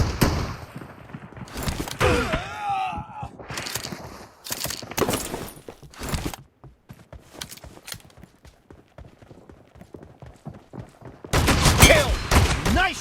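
Shotgun blasts in PUBG Mobile come as loud, sharp bursts spaced across the stretch, with gaps of quieter game noise and rapid clustered shots near the end.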